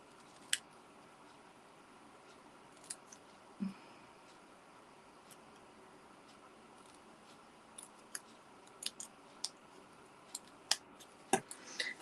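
Scissors trimming paper for a craft, a quiet room with sparse short snips scattered through, clustering toward the end, faint and close with no talking.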